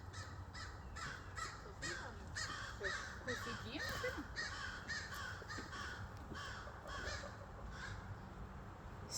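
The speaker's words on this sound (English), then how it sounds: "That's why the crows are doing that noise." Crows caw over and over in a rough, uneven rhythm from the trees near a yard with free-ranging chickens after a hawk raided a nest. The calls are moderately distant, with a low outdoor rumble underneath.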